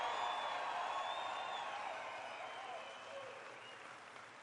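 A large campaign rally crowd applauds and cheers steadily, dense clapping with scattered whoops filling the space, gradually easing in loudness toward the end.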